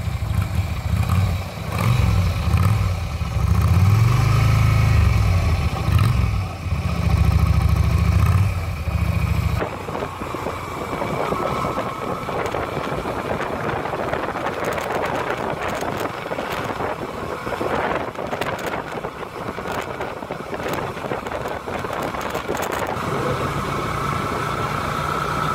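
A 26-year-old 250cc motorcycle engine starts and settles into a steady idle, with a heavy low rumble at first, then a lighter running tone overlaid by gusty wind buffeting the microphone.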